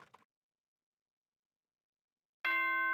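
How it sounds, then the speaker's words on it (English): A doorbell-like chime rings out in a Danganronpa video game, signalling a school announcement; after a brief faint sound and a long silence, a bright, sustained bell tone begins suddenly and rings loud and clear. "Ding dong, ding dong."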